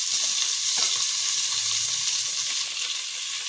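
Two onions frying in coconut oil and ghee for a mutton dum biryani, a steady, close, broadband sizzle and crackle holding level throughout with no talking.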